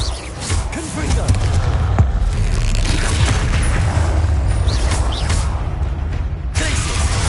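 In Hogwarts Legacy, Confringo explosion spells go off during a fight with a troll, a continuous loud barrage of booms, whooshes and impacts layered over a heavy low rumble, without letup.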